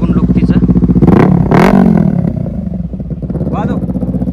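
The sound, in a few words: Kawasaki Ninja 300 motorcycle exhaust revving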